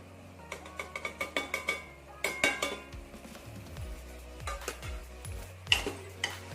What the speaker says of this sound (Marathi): वाटलेला कांदा घातला ती मटण पुन्हा दोन मिनटं चांगलं परतून घेऊयात